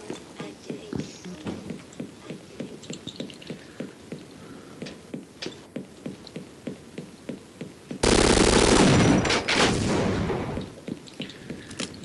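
Super shotgun blasts in Half-Life multiplayer fire in a quick, repeated series of punchy shots, with a loud sustained roaring burst partway through.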